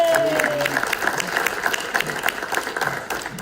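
Audience clapping for Laura after her introduction, a moderate, quick-patter round of applause with some voices and cheering over it.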